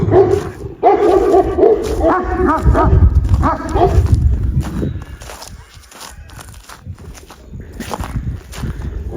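Several dogs bark and yip close by in a rapid, overlapping burst, then the noise settles into quieter shuffling and occasional sounds.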